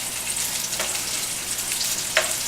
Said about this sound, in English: it's definitely bubbling at me